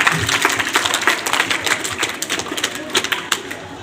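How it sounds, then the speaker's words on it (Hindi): Children in a coaching class in Shakti Nagar, Rewari clap loudly together, a dense run of hand claps with some voices mixed in. "इसलिए एक बार जोर से आपके लिए तालियां बजाइए।"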